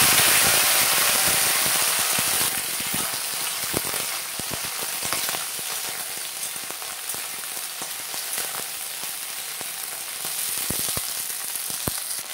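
Black cumin seeds and green chillies frying in hot oil, a dense, continuous sizzle with rapid crackles and pops, loud and close, with no talking.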